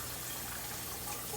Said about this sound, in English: Now we're gonna add water.